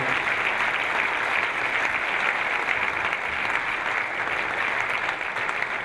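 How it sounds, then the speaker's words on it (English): Sustained applause from an audience at a Newcastle United legends reunion event, steady dense clapping filling the whole stretch with no voices on top. "can we just have a huge round of applause to players and event management"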